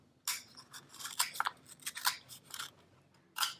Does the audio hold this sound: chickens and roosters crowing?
no